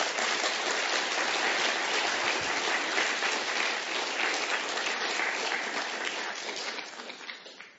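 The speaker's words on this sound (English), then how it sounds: "Please give these individuals and institutions a big round of applause." Applause from an audience at a science popularization prize ceremony, a dense, even patter of many hands at some distance that holds steady and then fades away toward the end.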